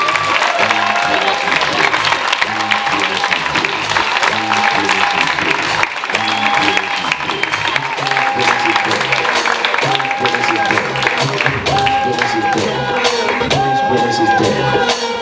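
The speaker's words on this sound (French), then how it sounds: "On les applaudit." An audience applauds at a closing show, continuous clapping with some crowd noise and cheering beneath loud music and voices.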